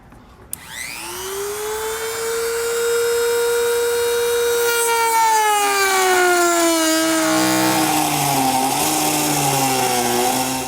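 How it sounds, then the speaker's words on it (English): A rotary tool with a plastic cutting blade spins up sharply and whines steadily while trimming a 2020 Subaru Outback fascia, its pitch sagging under load as it cuts, loud and close. "I'm just going to use a rotary tool with a plastic cutting blade."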